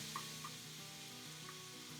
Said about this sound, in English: You're pretty much stir frying this chicken